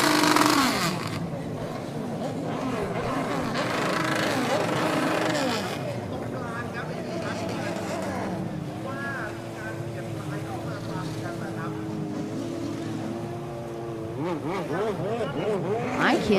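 Jet skis racing in a Pro Ski GP class heat at a Jet Ski World Cup Grand Prix, engines whining and shifting pitch continuously as craft pass, with a commentator talking over the engine noise throughout.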